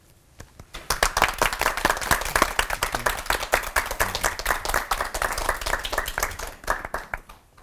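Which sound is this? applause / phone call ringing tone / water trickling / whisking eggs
applause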